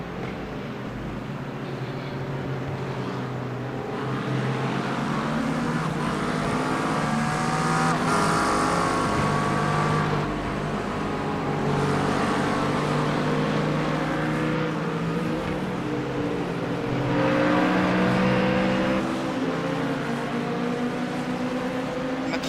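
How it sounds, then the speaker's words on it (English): Loud, sustained roar of a McLaren race car engine in a racing game at Watkins Glen, rising and falling through gear changes and revs, blended with other cars in a tightly packed field. "McLaren is so loud."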